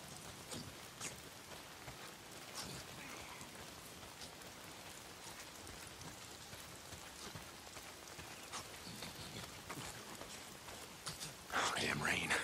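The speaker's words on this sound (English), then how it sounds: "Oh, damn rain. If it's not the freaks, it's the goddamn rain. Why is it always raining?" Steady rain falling in the video game Days Gone, a dense, even patter of drops on surfaces that continues throughout, briefly joined near the end by a louder splash of noise.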